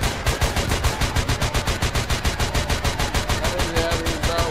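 A gun firing in a video game as a rapid, even stream of sharp shots at about six per second, loud and close, continuing steadily without a break.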